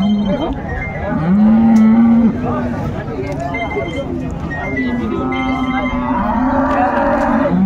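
Dairy cows and calves low at a busy rural cattle market in Raniganj, Dinajpur, with a few drawn-out moos rising over crowd chatter and talk nearby.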